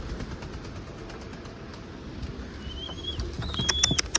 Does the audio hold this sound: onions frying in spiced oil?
no